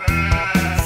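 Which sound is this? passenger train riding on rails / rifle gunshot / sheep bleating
sheep bleating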